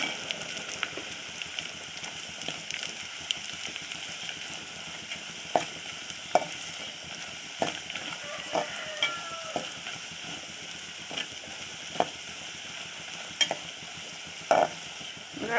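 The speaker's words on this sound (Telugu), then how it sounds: "పచ్చి వాసన పోయే వరకు వేపేసుకోవాలి" Masala spices sizzle in hot oil in a pan, a soft continuous frying hiss broken by irregular scraping stirs of a spoon, close and without talk.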